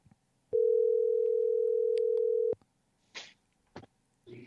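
Telephone line tone while calling a guest on the phone for a show, one loud steady tone lasting about two seconds, followed by a few faint clicks and rustles.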